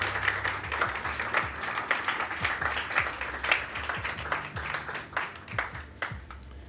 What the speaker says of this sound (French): On peut l'applaudir bien fort, ouais.